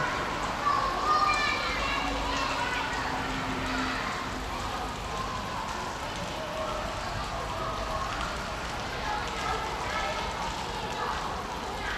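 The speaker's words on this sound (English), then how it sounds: "So let's get ready to go out in the rain." Rain falls steadily outside, a continuous hiss and patter that holds at an even level from start to finish, with scattered voices and street activity faintly mixed in beneath it.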